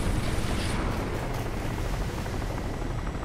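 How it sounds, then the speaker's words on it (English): A helicopter in the video game Crysis roars loudly and continuously, its dense rotor and engine noise filling the scene without any talk. "Incoming chopper!"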